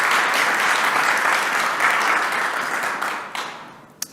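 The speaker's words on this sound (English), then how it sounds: "Let's give her another round of applause." A morning summit audience breaks into loud, sustained applause that fills the room, then tapers off with a few last isolated claps.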